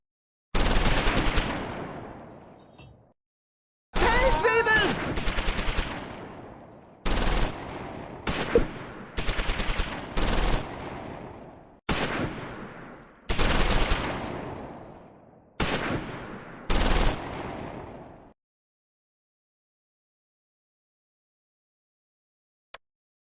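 Machine gun fire in Close Combat 4 during a World War II Battle of the Bulge fight: roughly eight sustained bursts of rapid automatic fire, loud and close, separated by short pauses, each ringing off into a fading tail, with no voices.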